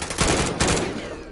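Gunfire in Call of Duty comes as a couple of sharp, loud bursts of rapid shots close together, each trailing off into a short echo, with no talking.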